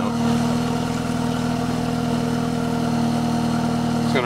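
A BMW 428i with the N20 engine runs steadily through an AWE quad tip exhaust, a close, loud, even engine drone holding for several seconds with a brief shift near the end.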